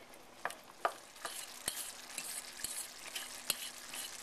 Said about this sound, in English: these tomatoes are cooking down quite nicely, and we're making a really nice sauce here